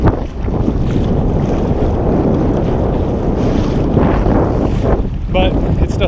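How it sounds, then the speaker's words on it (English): Strong wind and choppy waves slap a kayak on Lake Norman, a loud continuous roar of wind buffeting with splashing water throughout, close up. "I'm going to go right into the teeth of the wind and the waves."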